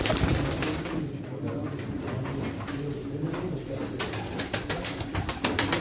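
Pigeons coo and rustle at a pigeon auction, a dense close chorus of soft repeated calls with occasional wing or cage clatter and faint background voices.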